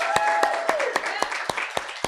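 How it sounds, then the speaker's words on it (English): A few people clap in a regular rhythm, the sharp, evenly spaced claps sounding through an ongoing hum of voices at a gathering. "So give them a round of applause, please."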